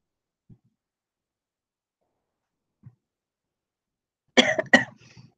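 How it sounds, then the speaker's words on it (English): Two faint single coughs spaced apart in near silence, then a louder burst of two harsh coughs close to the microphone. "I'm going to start coughing"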